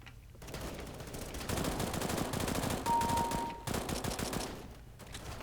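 Rapid automatic gunfire in CS:GO rattles continuously at close range, with brief pauses between long bursts and a steady electronic tone partway through, and no voices.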